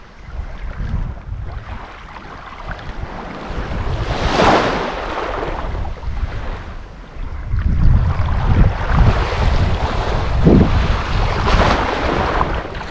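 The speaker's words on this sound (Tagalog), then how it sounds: "May hangin. Sana wag na lumakas yung hangin." Wind gusts over open sea during a fishing trip, a broad roaring hiss that swells and fades, with waves lapping and buffeting on the microphone.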